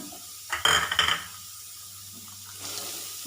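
Cut carrots dropped into a pan with a little hot oil burst into a sharp, loud hiss for about half a second. It fades to a faint, quiet sizzle and a soft hum, with no talking.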